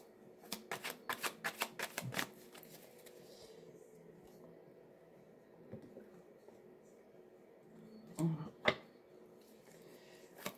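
Tarot cards shuffled in quick riffling bursts at first, then a long quiet pause before a few more soft card sounds near the end, close and faint with no talk.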